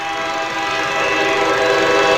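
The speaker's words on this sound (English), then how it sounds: "train!" Loud, sustained cartoon train horn with a steady rising roar of an approaching train, building over about two seconds with no talk.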